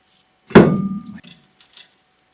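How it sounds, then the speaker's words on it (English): A brake disc and wheel bearing being fitted onto the hub of a Porsche 924: one loud metallic thunk with a short ringing tail, followed by a couple of fainter clinks, close by with no talk. "Then I can fit the disc and the bearing"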